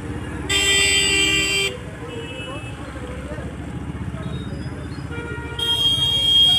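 A vehicle horn sounds twice on a busy street in Mathura during Janmashtami, each a long, loud, sustained blast about a second long, separated by a stretch of traffic rumble and crowd murmur.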